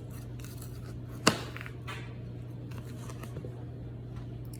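A kitchen knife slices through a bell pepper into strips on a cutting board, one sharp crunchy cut standing out among quieter soft cutting sounds, close to the mic over a steady low hum.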